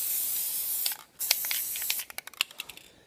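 A spray paint can hisses onto drum pedals up close, a long steady jet followed by a run of short, sharp sputtering bursts.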